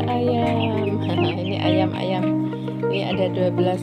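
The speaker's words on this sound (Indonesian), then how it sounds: "Ada ayam. Ini ayam-ayam, ini ada 12 ekor ya pemirsa" Chickens, a flock of about twelve, cluck among garden bougainvillea and orchard plants under steady speech, with soft clucks and chirps scattered through the mix.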